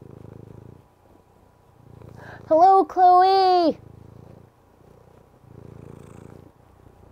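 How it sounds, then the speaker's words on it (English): A harnessed cat purrs close by in soft rhythmic low rumbles that rise and fall with each breath, interrupted by a brief loud spoken greeting in the middle. "Can you hear him purring?"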